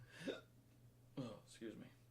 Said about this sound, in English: What's with all them hiccups, man?